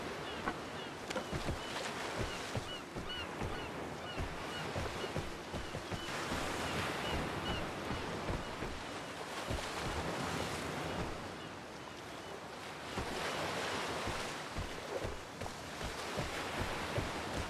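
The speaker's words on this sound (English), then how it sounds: "all you hear is the sound of crashing water" Crashing water waves in the Vigor video game, a continuous roaring wash of surf that swells and ebbs, loud and steady throughout with no voices.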